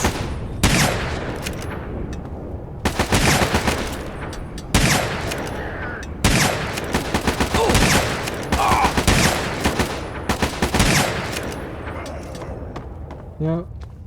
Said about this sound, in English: He missed both shots.